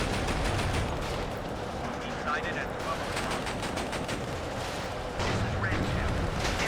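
Dense machine-gun bursts and heavy gunfire with a T-80 tank engaging an airborne team in the WARNO video game, a continuous loud battle din while someone talks over it.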